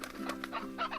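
Chickens in the video game Slime Rancher cluck in quick, close bursts, a short run of clucks and squawks with no talking.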